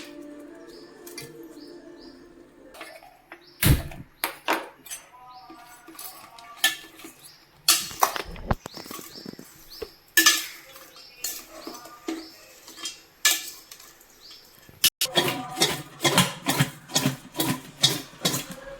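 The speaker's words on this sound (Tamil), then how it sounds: "இப்படி குலுக்கி வச்சோம்னா எல்லா இடமும் படுற மாதிரி வேகும்." A pot of home-grown cluster beans, boiled for making dried vathal, is shaken and handled in a kitchen, giving bursts of metallic clanks and rattles that grow denser toward the end, with occasional bird chirps in the background.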